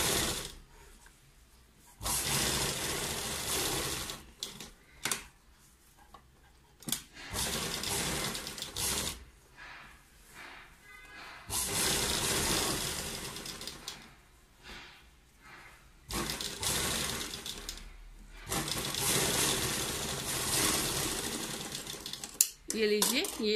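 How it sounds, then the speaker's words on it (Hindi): Sewing machine stitching along the folded edge of a fabric sleeve runs in several bursts of fast mechanical stitching, close and clear, separated by short pauses with a voice talking in between. "फोल्ड करने के बाद हमने इसी के बिल्कुल किनारे पे एक सिलाई लगानी है इसको"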